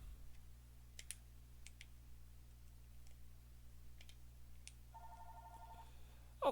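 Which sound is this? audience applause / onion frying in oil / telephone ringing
telephone ringing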